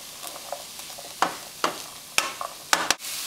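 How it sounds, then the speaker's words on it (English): Carrot and zucchini stir-frying in a pan for cauliflower fried rice, a soft sizzle with a run of sharp scraping and clattering strokes as the vegetables are pushed around, close and alone. "Next, I'm adding the carrot and my zucchini. And I'm just going to push this around a bit more."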